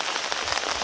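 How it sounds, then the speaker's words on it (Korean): Rain falls steadily on a garden with wintering hydrangeas, a dense close patter of drops on leaves and surfaces with no voices. "이렇게 비가 오는 날은 해야 할 일이 또 있어요"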